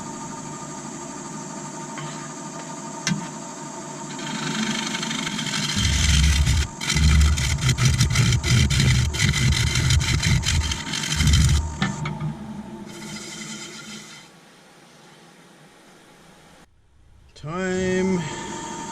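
A wood lathe turning a Sapele shallow bowl at 750 RPM gives a steady mechanical hum and whir that swells louder mid-clip, with a clatter as the tool rest is adjusted, before settling to a quieter drone.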